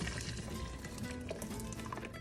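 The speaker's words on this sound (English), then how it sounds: "we have our blended up mixture of salsa verde, beef broth, serrano peppers, and cilantro. We're gonna pour this on here." Blended salsa verde, beef broth, serrano pepper and cilantro mixture pours steadily onto meat cooking in a pot, a soft continuous liquid rush with faint sizzle, quiet and without talk.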